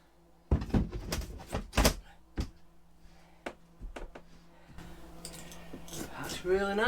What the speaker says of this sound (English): see whether the door fits, shall we?